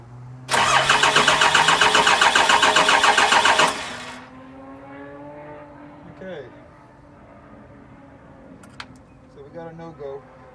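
A diesel truck with a 6.4 Cummins engine and VP44 injection pump cranks loudly and rhythmically for about three seconds without catching, then falls quiet, leaving faint background sounds and soft movement.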